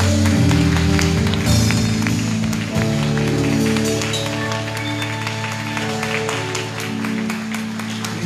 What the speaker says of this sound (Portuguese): E aplauda Jesus